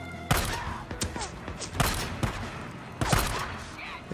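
Heavy gunfire in Days Gone, loud close shots in short bursts and single blasts spread across a few seconds, with a player's voice over it.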